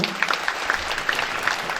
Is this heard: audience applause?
yes